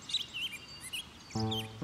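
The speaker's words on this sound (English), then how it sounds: "This sounds like a rare, colorful bird." A rare, colorful cartoon bird chirps in short, high tweets and trills, scattered across the clip, with a brief buzzing tonal hum near the end; fairly faint and without talk.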